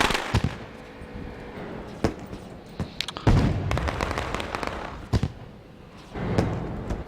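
Fireworks in an All Pro Sim Racing game. Repeated booming blasts and crackling firecracker-like pops come at irregular intervals, some louder thuds among lighter snaps, with no talking.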